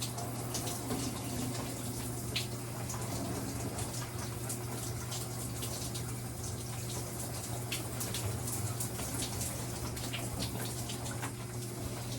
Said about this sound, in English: I'm gonna hop in the shower